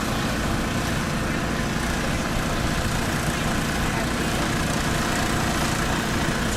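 A paramotor engine idles in a steady, loud, continuous drone, close by and unbroken, with voices faintly mixed in.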